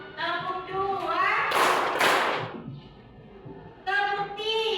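Students in a classroom clap their hands together in a dense burst of slaps lasting about a second, surrounded by children's voices chanting and talking.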